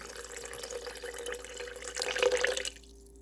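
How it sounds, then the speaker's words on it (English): Cold water runs from a kitchen tap in a steady splashing stream into a soup maker, rising briefly louder before cutting off near the end. "So let's add some water"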